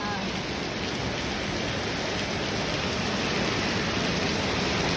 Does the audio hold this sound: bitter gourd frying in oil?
no